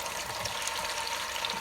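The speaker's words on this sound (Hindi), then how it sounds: "भून लें फुल आंच पे।" Chicken pieces frying over full heat in a pan for achari chicken, a steady close hiss and sizzle with no talking.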